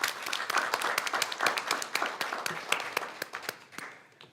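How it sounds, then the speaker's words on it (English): Audience at a school board of education meeting giving a round of applause, fairly quiet steady clapping from a modest crowd that fades out toward the end. "if we can give her a round of applause as well"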